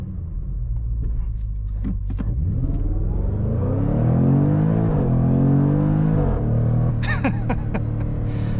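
A supercharged car engine revs hard and accelerates, a loud rising roar that climbs in pitch, with brief crackles near the end.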